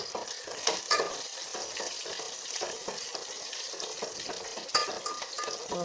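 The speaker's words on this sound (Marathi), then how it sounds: "आता कट करून घेतलेली हिरवी मिरची टाकायची मिरची चांगली अशी पवून घ्यायची" Chopped green chillies fry in hot oil with cumin for a tempering, a bright continuous sizzle with occasional crackles and pops close by.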